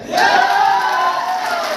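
Large crowd packed into an indoor hall, a loud, continuous wash of many voices and cheering, steady throughout with no single speaker standing out.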